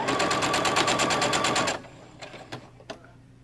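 Sewing machine stitching fabric strips for a fence rail quilt block, a fast rapid-fire chatter of needle strokes for under two seconds, then stopping, followed by a few faint clicks and taps.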